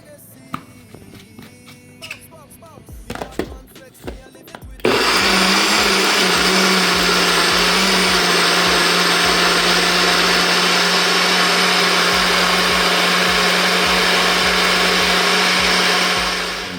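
A blender purees Jamaican green seasoning with green onion. After a few seconds of quiet kitchen clatter, it roars on loudly and close, then runs steadily for about twelve seconds before easing off at the end.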